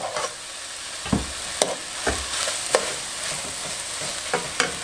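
Rice, medium-grain, stirred in a pot with sautéed garlic and onion, with repeated sharp scraping stir strokes over a soft steady sizzle, close and moderately loud.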